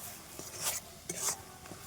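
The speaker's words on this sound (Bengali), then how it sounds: "দিয়ে খুব ভালোভাবে নাড়িয়ে নেব।" A carrot rasmalai mixture with cracked cardamom pods is stirred in a pan, giving a few soft scraping swishes against the metal, quiet and close, with no talk.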